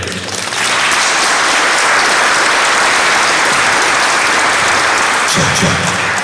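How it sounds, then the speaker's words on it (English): Wedding guests give a dense, loud burst of applause that swells quickly and holds steady for several seconds. "Round of applause for my friend Kedre."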